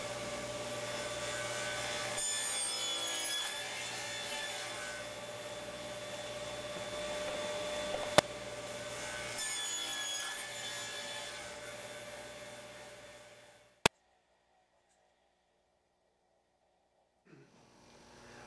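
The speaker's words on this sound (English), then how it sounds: "I'll finish off the tenon by using the tenon jig and cut off the cheek on each" Wood is cut with a tenon jig to remove the tenon cheeks from a board for an Arts and Crafts panel bed, a loud steady machine whine over about thirteen seconds with a sharp click before it stops and goes silent.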